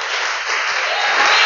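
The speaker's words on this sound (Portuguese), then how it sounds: "As palmas vão ser bem fortes," A church congregation claps strongly in praise during a service. The applause is a brief, loud, dense wash of sound that holds steady throughout.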